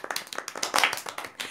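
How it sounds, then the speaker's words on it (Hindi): Lively clapping from a small audience at a dance challenge show, brisk uneven claps close by, with a few louder bursts and voices mixed in. "तालियां हो जाए इस पे."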